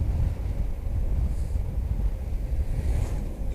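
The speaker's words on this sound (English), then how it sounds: "I know the wind is picking up a little bit, but it's not it's only breezy" A low, steady rumble of wind gusts across a motorcycle campsite beside a Suzuki Bandit 1250, a continuous breezy buffeting at moderate level with no talk.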